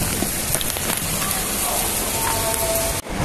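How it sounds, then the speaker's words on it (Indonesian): Heavy rain pours onto a Jakarta street near Sudirman, a dense, continuous hiss and patter heard close up and loud, cutting off abruptly near the end. "Percuma juga pakai payung teman. Nanti tas kita bakalan basah, hujannya deras banget."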